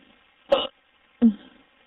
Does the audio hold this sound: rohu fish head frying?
no